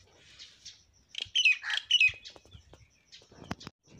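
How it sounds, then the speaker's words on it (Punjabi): Pigeons kept in a backyard coop give short squawking calls and burst into flapping wings, two loud bursts standing out against a quiet background, with faint chirps before and after. "ਦੇਖੋ ਕਬੂਤਰ"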